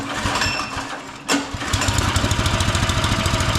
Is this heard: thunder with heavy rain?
no